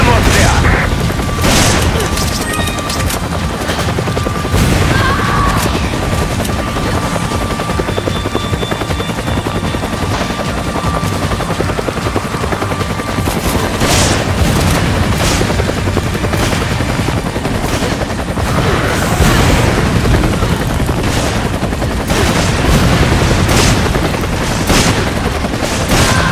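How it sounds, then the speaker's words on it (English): Bursts of rapid gunfire from Resident Evil 5 crackle repeatedly over a constant helicopter-like roar and booming blasts, loud and chaotic throughout. "hear gunfire"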